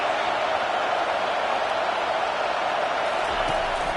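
Dense, steady roar of a football stadium crowd late in the fourth quarter as the home team pins its opponent deep in its own end, a loud continuous wash of cheering with no break.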